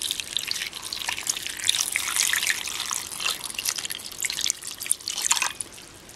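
Water trickles and splashes into a cooking pot for shrimp sinigang, a continuous bright pouring noise that rises and falls, with no talking.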